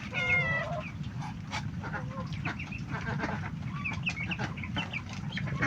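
Chickens cluck and chatter steadily over a noisy outdoor background, with a young rooster's call standing out near the start.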